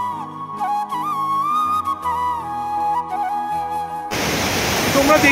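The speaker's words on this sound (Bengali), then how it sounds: "যে কত উঁচু থেকে একটা ঝর্ণা পড়ছে" Melodic background music plays first, then cuts abruptly to the loud, hissing rush of a waterfall dropping from a height in East Sikkim, heard close for the final second or so.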